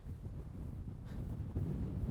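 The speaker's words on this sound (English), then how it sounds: "bloody windy." Strong wind buffets the microphone high on a mountain during wild camping, a steady low roaring rumble that swells louder in the final half second, with no voices.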